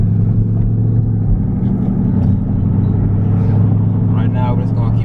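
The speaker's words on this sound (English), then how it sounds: "this car does have a muffler delete on it" A 2019 Dodge Charger R/T Daytona with a muffler delete drives gently at low throttle, a deep steady exhaust drone running throughout, with faint background noises near the end.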